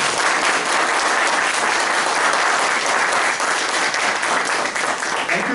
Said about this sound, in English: Let's now clap for our evaluator,